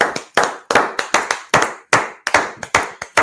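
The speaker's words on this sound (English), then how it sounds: "Clap it up." A class claps in unison, about a dozen loud, sharp, evenly spaced claps with a steady rhythm, close and clear with no talking.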